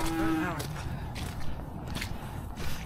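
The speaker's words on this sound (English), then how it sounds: "Cows in the field, all being well, they're not going to come and chase us." Cows moo in a field: one clear, drawn-out moo at the start, then quieter outdoor shuffling and rustling noises.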